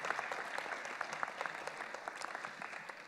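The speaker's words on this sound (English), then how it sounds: "Let's hear one final round of applause here for everybody who participated today." A school audience at a Poetry Out Loud event applauds with dense, steady clapping at moderate distance, slowly fading toward the end.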